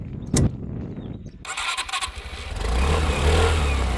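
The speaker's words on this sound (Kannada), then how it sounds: "ವಿತೌಟ್ ಕೀ ಗಾಡಿ ಸ್ಟಾರ್ಟ್ ಆಗುತ್ತೆ." A 2026 Suzuki Burgman Street scooter starts by keyless ignition: a brief click and starter whir, then the engine catches and settles into a steady low idle, close by.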